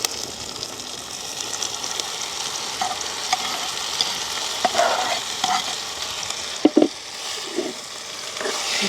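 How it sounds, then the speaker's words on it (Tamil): Dried squid fries in oil with tomatoes in a village kitchen pan, giving a continuous close sizzle with occasional scraping stirs and a couple of sharper clatters near the end. "கழுவி வச்சிருக்கிற கனவா கருவாடுகளை வந்து போட்டுக்கொள்ளுவோம்"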